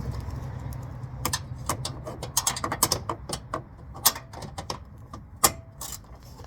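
Ratchet wrench loosening 13mm radiator bolts on a 2020 Dodge Charger, with rapid clicking bursts and short pauses, close and fairly crisp.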